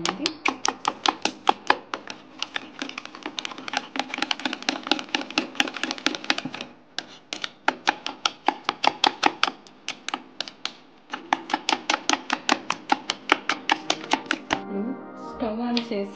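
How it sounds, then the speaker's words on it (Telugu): Eggs and other omelette ingredients beaten briskly in a bowl, a rapid steady run of close, sharp clinking whisk strokes with two short pauses, ending in a brief clatter. "అన్నీ వేసాక దీన్ని బాగా కలుపుకోవాలి."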